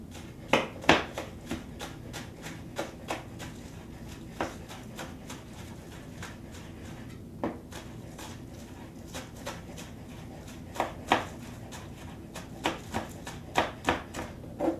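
Green onions are chopped finely with a knife on a board, a run of crisp, quick taps that come in uneven bursts, some louder than others, close and with no voice.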